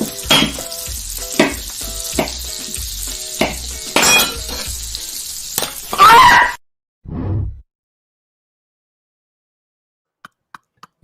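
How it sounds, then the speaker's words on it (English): Hot grease sizzles and crackles loudly over a music bed, with a few sharp bursts near the end before cutting to silence. "That hot ass grease."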